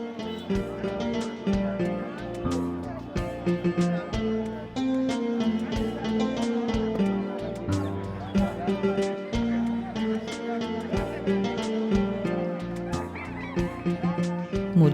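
Ducks and chickens at a busy rural livestock market in Sirajganj, Bangladesh, honking and clucking fairly close and steadily throughout, mixed with crowd noise and people talking.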